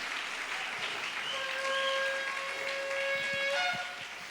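A church congregation applauds continuously at a moderate distance, with a sustained tonal whine, like a held keyboard note, running through the latter half.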